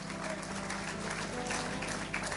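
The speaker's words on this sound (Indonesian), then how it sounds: "Kita berikan tepuk tangan buat Tuhan." A church congregation applauds during an anniversary service sermon, a faint but steady, dense clapping from a large crowd that continues evenly throughout.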